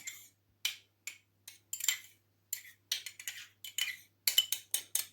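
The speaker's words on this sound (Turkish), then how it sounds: "Onun içine biraz süt koyuyorum. Böyle karıştırıyorum." A spoon clinks repeatedly against a small bowl while stirring yogurt and milk, giving short bright taps in an uneven rhythm, close up with no talk.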